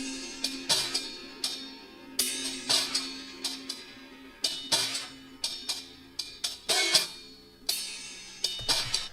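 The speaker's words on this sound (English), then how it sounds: "And it's this drum sample." Time-stretched drum percussion loop from the Phantom808 Cremona kit, slightly distorted, with sharp repeating hits over a low sustained tone, played alone in an uneven rhythmic pattern.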